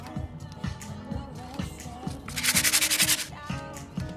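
Rust is scrubbed off metal in repeated short rubbing strokes, close and fairly soft, with a faster, harsher scrubbing burst partway through and no clear talking.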